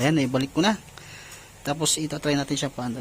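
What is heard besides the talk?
No everyday noise stands out behind the speech.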